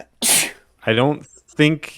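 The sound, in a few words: sneeze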